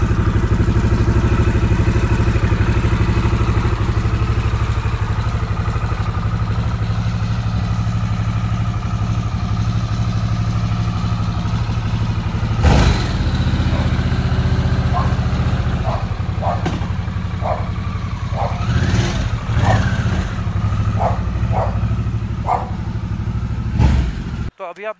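A Harley-Davidson Sportster S rumbles steadily on a ride to Mahamrityunjay Mandir, its engine drone constant and close for most of the stretch, with clattering bumps and brief tonal chirps appearing toward the end.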